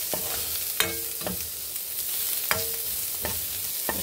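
Chicken soup ingredients, chayote among them, sauté in olive oil with a steady sizzle, punctuated by several sharp stirring clacks of a utensil against the pot.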